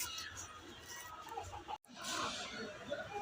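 A hill-breed rooster clucks at a busy poultry market among chickens, with steady crowd chatter and bustle around it and a brief silent break midway.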